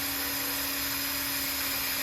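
Continuous high-pitched whine of a power drill boring a screw hole in a DIY Halloween zombie ground-breaker prop, loud and steady at close range with no talking.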